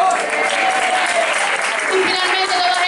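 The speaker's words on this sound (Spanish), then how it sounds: "Un aplauso para la Grama." Applause for a carnival chirigota group at a Jerez pregón: a steady wash of clapping from a crowd, with a speaker's voice and some tonal sounds carrying over it throughout.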